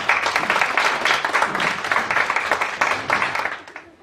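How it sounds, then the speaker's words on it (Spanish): Dense audience applause fills the hall at a conference's final panel, a steady wash of many hands clapping that holds for several seconds before tapering off at the end. "A quien recibimos, por favor, un aplauso."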